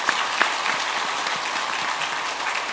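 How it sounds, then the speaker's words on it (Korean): A church congregation claps to welcome new members during a Sunday worship service, a short burst of dense, even applause lasting under three seconds with no speech. "박수로 환영하며 축복하겠습니다."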